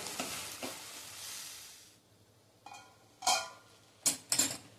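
Sweet potato sautéing in a pan hisses softly at first, then the sizzle fades and a few sharp spoon-on-pan clinks and scrapes follow from close by, with no voices.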